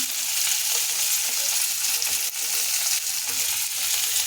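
Tomatoes and spices frying in a pan, a continuous close hiss and sizzle with occasional stirring scrapes and small pops throughout.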